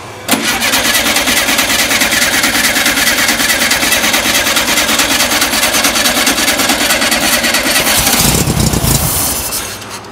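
A Volkswagen engine with a carburetor cranks over and over, trying to start: a loud, steady churning that continues without a break for about eight seconds. It then shifts into a rougher, deeper burst near the end before fading.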